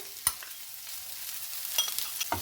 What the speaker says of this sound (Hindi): इसे भी हम सभी चीज़ों के साथ 2 मिनट अच्छे से भून लेंगे।